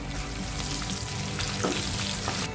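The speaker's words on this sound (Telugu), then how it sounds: "కొద్దిగా కరివేపాకు కూడా వేసుకొని ఫ్రై చేసుకుందాం" Curry leaves crackle and sizzle in hot oil, a steady, close spattering with a few sharper pops, while making amla pulihora.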